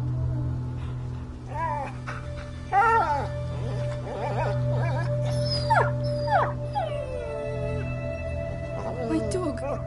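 A dog in A Plague Tale whimpers and howls in repeated drawn-out cries over a steady low hum, with a few short yelps scattered through the stretch.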